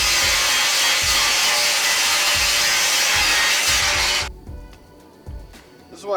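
A cheap Harbor Freight angle grinder grinds loudly and continuously for about four seconds, then cuts out, leaving a few faint clunks and rattles.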